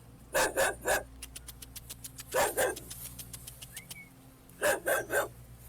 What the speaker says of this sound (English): We have a loose dog that's around the scene, possibly might be the victims.